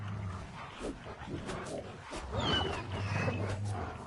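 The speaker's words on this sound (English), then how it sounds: "Oh, wolves." Wolves growling and snarling in The Witcher 3: Wild Hunt, rough throaty snarls and whines over a dense layer of game ambience, moderately close and continuous.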